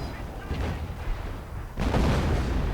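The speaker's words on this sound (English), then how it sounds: "Me sort of trying to keep its attention while I lock in with the howitzer." Howitzer artillery fire from a Company of Heroes style 1v1 video game match: a rumbling stretch of distant battle noise, then a heavy, loud boom at about two seconds that rolls on into a sustained roar.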